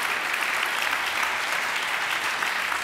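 Steady applause from a conference audience at a CEO summit on media and communication, a dense even wash of clapping welcoming an executive onto the stage, sustained and moderately distant.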